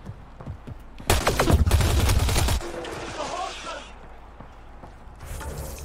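Rapid bursts of gunfire crackle during combat in the video game Mass Effect Andromeda, a loud, dense volley lasting about a second and a half, followed by softer battle noise and a voice speaking.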